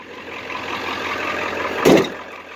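Ford 7.3 diesel engine on a flatbed truck, freshly started and idling with a steady clattering rumble up close, broken by one brief louder knock or rev near the end.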